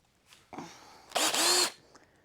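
A power drill whirs in two short bursts, the second louder and longer, briefly bores pilot holes into a soil sifter frame, then stops.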